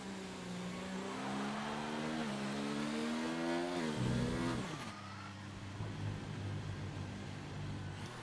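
Formula 1 car engine from an F1 racing game, screaming at high revs on a flying lap at the Belgian Grand Prix, rising through gears with upshift steps before a drop; loud and continuous, no talk.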